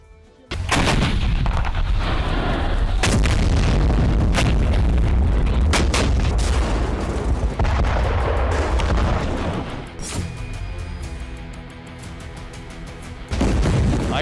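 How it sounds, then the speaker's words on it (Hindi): Explosions from an IDF strike on a Hamas tunnel in Gaza boom and roar continuously, with dense rumbling blasts and crackling bursts that stay loud for most of the stretch before easing slightly and swelling again. "आईडीएफ ने गाजा में हमास की एक और सुरंग पर टारगेटेड अटैक किया।"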